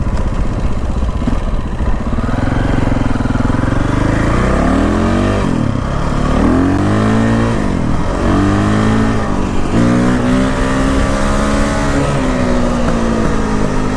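A KTM 525 dual sport motorcycle's single-cylinder engine roars loud and close under way, revving and rising in pitch through repeated accelerations and shifts, with wind noise throughout.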